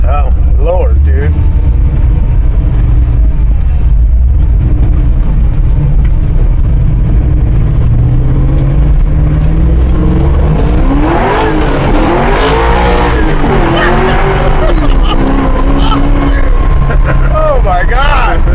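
A 1969 Chevrolet El Camino Super Sport with an LS 427 engine and Tremec transmission roars loud and close on a dyno as its tires slip, its pitch rising and falling in surging revs, with people exclaiming over the noise.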